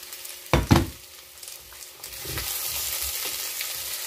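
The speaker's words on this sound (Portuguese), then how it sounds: "Agora eu vou pôr as batatas aqui. Vamos dourar essas batatas." Potatoes dropped into a pan of onion and garlic oil, a sharp splash of sizzling at first, then steady close frying with light stirring.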